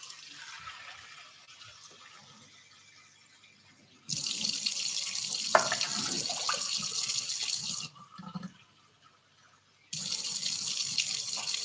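A kitchen tap gushes into a measuring cup to measure water for rice, a bright rushing stream that starts, stops for a couple of seconds and starts again, with quieter handling noise before.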